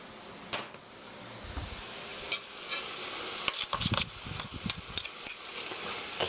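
Japchae glass noodles stir-fry with seasoning in a pan, a steady sizzle and hiss under repeated scraping and clacking stir strokes, close and moderately quiet.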